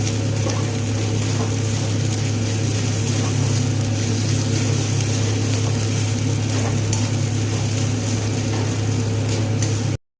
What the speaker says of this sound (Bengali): রসুন ভাজা ভাজা হয়ে গিয়েছে, এর মধ্যে দিয়ে দেব বেটে রাখা আদা।